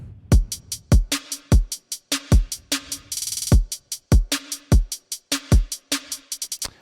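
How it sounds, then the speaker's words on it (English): A produced main drum groove loop from a song: punchy kicks and sharp snare hits in a steady repeating pattern, with a brief rapid roll midway. The drums play alone, loud and close. "He's got a main drum groove that I use throughout most of the song."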